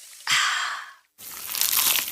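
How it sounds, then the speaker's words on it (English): Two crunchy bites into a cheesy pizza slice, each a sharp crisp crackle separated by a short silence, close and loud with no talk. "Is that the sound of an ooey gooey, cheesy, crunchy slice of P-I-Z-Z-A?"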